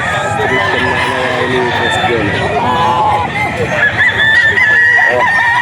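A gamecock rooster crows repeatedly among clucking fowl at a busy gamefowl sale in Bocaue, loud and close, with people talking and market chatter throughout.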